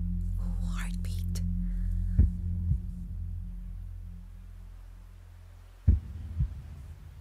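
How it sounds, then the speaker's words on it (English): A deep, slow heartbeat pulses during a live performance of Ave Maria at New Wave 2021. Two double thumps a few seconds apart sit over a low hum, with faint whispering voices. "Ooh, heartbeat."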